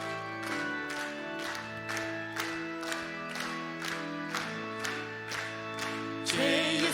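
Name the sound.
congregation clapping while singing a hymn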